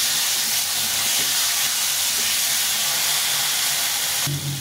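Red chili paste, made from dried Kashmiri chilies, frying in a pan for a rohu fish curry, a loud continuous hiss and sizzle close by that cuts off abruptly near the end, with no talking.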